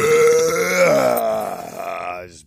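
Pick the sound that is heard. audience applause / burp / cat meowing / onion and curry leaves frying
burp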